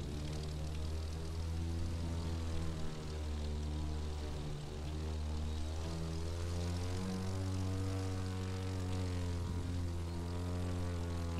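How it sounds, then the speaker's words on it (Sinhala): A propeller airplane flies steadily in the driving game The Crew 2, its engine a continuous loud droning hum with a slowly shifting pitch throughout, with no talk. "මම ප්ලේන් එකක් කියලා උඩින් යනවා."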